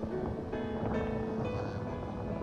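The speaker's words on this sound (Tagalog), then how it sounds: "Ang lakas po ng alon ngayong araw." Strong ocean waves at a Cancun beach make a continuous roar of surf mixed with wind buffeting the microphone, with steady, loud wash and no voices.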